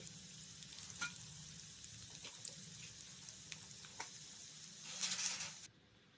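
Urad dal sizzles and fries in a pan for ginger chutney, a close, steady crackle with a few stirring clicks and a louder hiss near the end.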